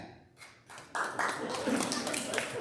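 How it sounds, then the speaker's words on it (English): Audience clapping hands in response to a show-of-hands poll at a cocktail reception, starting faintly and swelling into moderate scattered applause from a mid-sized crowd, with some voices audible in the background. "How many people think it's helped? Clap your hands."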